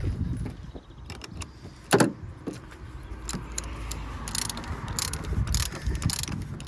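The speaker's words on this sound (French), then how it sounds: "Et vous venez visser un peu avec le cliquet." A ratchet with socket and extension turns a bolt during an oil change on a car, giving short bursts of close clicking with metallic clinks and handling noise between them.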